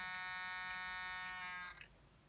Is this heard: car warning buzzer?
yes